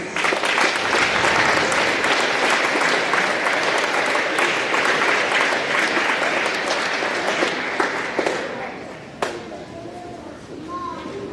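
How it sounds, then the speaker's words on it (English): Audience applause for the parents at a community school graduation ceremony, a dense, loud, sustained wash of clapping that holds steady for about eight seconds, then fades out with a few scattered claps and a brief bump near the end. "If we can now have a round of applause for all the wonderful parents in the audience"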